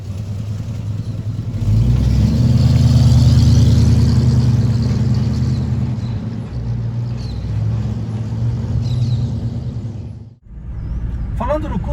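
An Oldsmobile Cutlass Supreme muscle car with a 400 Quadrajet engine, four-speed and dual exhaust runs with a low steady rumble that swells briefly as if revved, under someone talking throughout.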